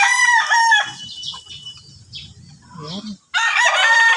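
Roosters crow loudly and close by in hot weather. A long crow opens the clip, low clucking follows, and another strong crow comes at the end. One brief word is spoken.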